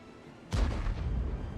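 Gunfire in a Counter-Strike match, a single sharp booming shot followed by a rumbling echo tail, fairly loud and close against a quiet background.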